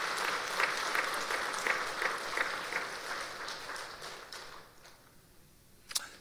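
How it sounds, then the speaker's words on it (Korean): A church congregation claps together in steady, dense applause that holds strong for several seconds, then fades out, leaving a single sharp knock near the end. "우리 다시 한번 박수 한번 할까요?"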